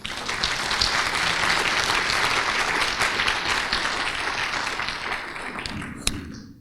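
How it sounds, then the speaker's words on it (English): An audience at an interfaith iftar gathering gives Junaid a round of applause. The sustained, full-room clapping holds steady for several seconds, then thins out, ending with a single close thump. "One more round of applause for Junaid."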